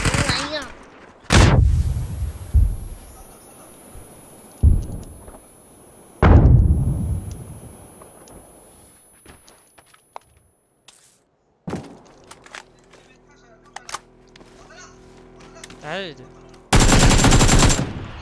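Shooting video game gunfire: sharp, loud bursts of shots and machine-gun fire with bangs and impacts, scattered between quieter stretches of footsteps and game ambience, ending in a loud sustained burst.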